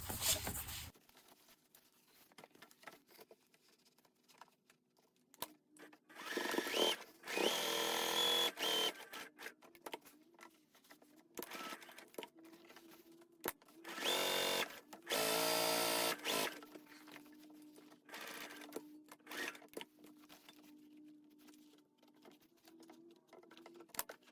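A sewing machine stitches a second seam just inside the seam allowance on a laptop bag, running in several loud bursts of rapid mechanical whirring separated by quieter pauses, close up.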